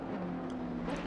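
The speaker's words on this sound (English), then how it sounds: "you can hear the cars and all of their lovely, lovely noises" GT race cars at the Nurburgring droning steadily at a distance, a low continuous engine hum with no distinct pass-by, brief and fairly faint.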